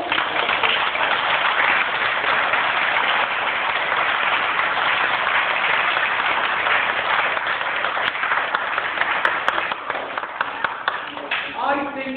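A school audience at a primary school farewell gives a teacher a long round of applause, dense steady clapping from many hands that stays loud throughout and thins slightly near the end, with faint voices mixed in.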